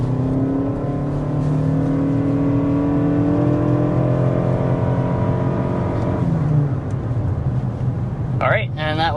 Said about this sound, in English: that was 60 miles per hour with the Crown Signia. Pretty nice acceleration